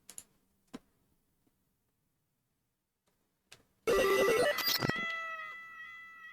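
A cat meows in a short loud burst, preceded by a few faint clicks and taps in an otherwise quiet room, then the sound trails off into a fading ringing tone.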